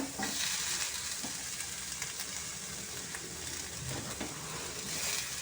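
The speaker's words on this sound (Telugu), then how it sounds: "ఇది కాస్త ఫ్రై అయితే సరిపోతుంది" Onions and tomato fry in a pan for sprouted-gram snack, a steady close sizzle with spatula scrapes and stirring throughout, no voices.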